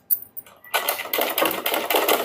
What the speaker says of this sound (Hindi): इसी तरीके से सिलाई लगाते जाएंगे।